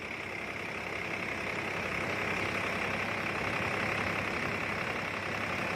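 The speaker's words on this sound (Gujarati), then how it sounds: "ખાલી 1/2 મિનિટ જોજો તમે ટ્રેક્ટરને કઈ ફેર પડે મને કહેજો" A tractor engine runs steadily while driving a Shree Ganesh wheat thresher, giving a continuous, loud mechanical drone with a broad whooshing hiss from the threshing drum, unbroken and with no voices.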